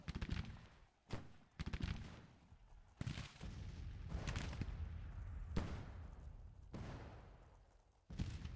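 Musket volleys crack repeatedly across a Civil War battlefield in Grand Tactician: The Civil War, sharp loud reports at irregular intervals with rumbling fire between them.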